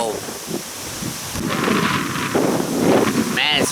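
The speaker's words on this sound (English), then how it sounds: "Man, it's freaking windy." Strong wind buffets the microphone outdoors during skateboarding in a constant roaring rumble, with a person talking over the gusts.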